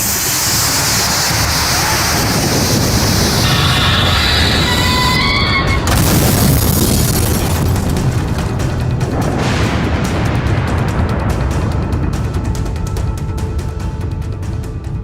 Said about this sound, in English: The explosion is horrendous.